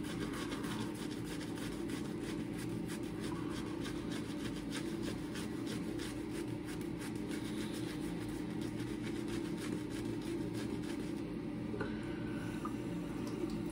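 Water poured into a moka coffee pot, a steady close trickling and rubbing wash that runs continuously without speech.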